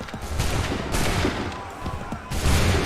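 Soldiers fire a volley of muskets in Assassin's Creed III, several ragged bursts of gunfire layered over a loud battle din, with shouted orders nearby.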